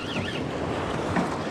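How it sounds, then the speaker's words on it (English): Waves lapping and washing in along the Murray River while fishing, a steady broadband wash with wind buffeting the microphone, fairly close and continuous, no talk. "Got the waves coming in."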